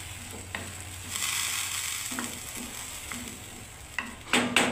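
Green banana kofta curry sizzles and bubbles in a pan after water goes in, a soft steady fry with a few scrapes and clinks of a stirring spoon.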